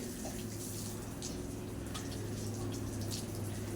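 Cold water poured over a sacrificial animal while it is bathed, a steady, close, continuous splashing stream with no pauses.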